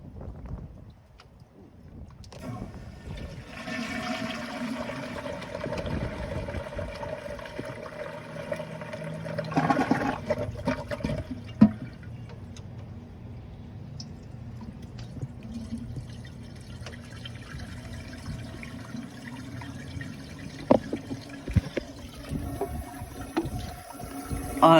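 A Rheem flushometer on a toilet flushes with a sudden rush of water that swells and then settles into a quieter, continuous running and trickling as the bowl refills.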